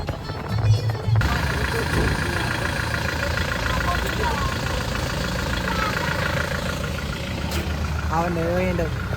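A car's engine runs steadily while driving, a low continuous hum under people talking throughout.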